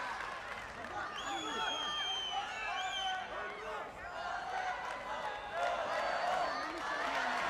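Home crowd at a Premier League karate kumite match cheers and roars steadily throughout, loud and continuous, with shouts rising above the din.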